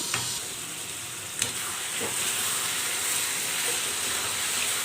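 Chicken fries on a high flame for a low-oil, light-masala chicken fry, a steady broad sizzle and hiss with an occasional knock of a stirring spoon against the pan, no voices.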